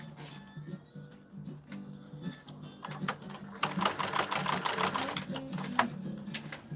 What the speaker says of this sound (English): I'll sew the top and bottom part first